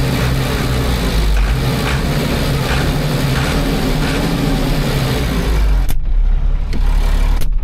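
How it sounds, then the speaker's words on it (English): A farm tractor engine revs loudly with the cab door open while plowing, a steady heavy rumble that fills the space, broken near the end by a few sharp clicks. "if we open the door, if we rev the engine"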